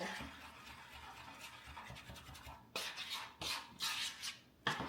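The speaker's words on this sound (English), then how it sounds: "Just going to mix everything together really, really well." Thick no-bake peanut butter bar mixture being stirred, a soft continuous scraping and rubbing with a few sharper scrapes toward the end, quiet and close with no talking.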